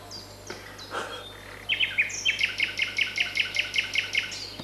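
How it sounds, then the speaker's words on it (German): At dawn, a bird sings a rapid series of bright, repeated chirping notes, about a dozen in steady rhythm, following a few scattered calls against quiet outdoor background. "Was ist denn das für ein Vogel, Arim?"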